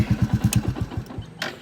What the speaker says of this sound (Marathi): but bike is on not on neutral